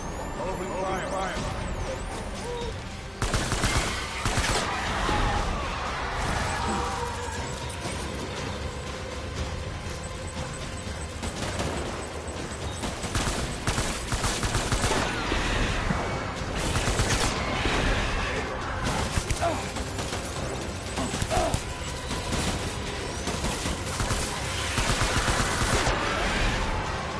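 Sustained gunfire bursts in the Death Stranding video game, loud and dense over a continuous mechanical rumble, with speech mixed in throughout the long stretch.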